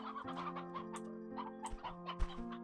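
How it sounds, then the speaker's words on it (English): Chickens in the Slime Rancher 2 video game cluck steadily in a busy flock, the short clucks overlapping over a constant tonal game hum, with no voices present. "that's a lot of chickens."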